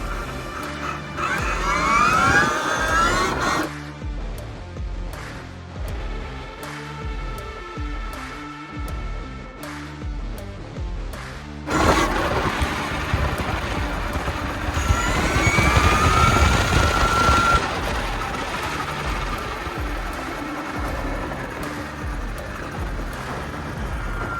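KTM Freeride trike engine revving hard at full throttle, a loud rising whine that climbs, drops back at a shift, then surges and climbs again, close by and dominating throughout.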